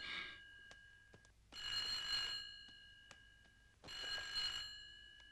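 A telephone bell rings in two long bursts with a pause between, a bright metallic trill heard indoors and fairly faint, with no talking over it.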